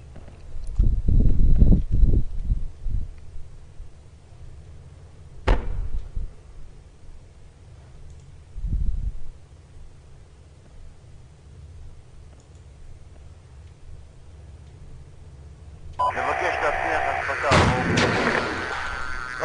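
Anti-aircraft rocket launch in the military shooter game Project Reality: early heavy booming bursts, then isolated sharp blasts, followed by a loud sustained roaring whoosh near the end, with no talking over it.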